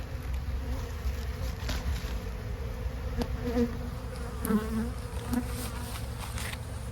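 Honey bees buzz close up around frames of emerging brood in a boosted hive, a continuous droning hum with occasional louder passes as individual bees fly near.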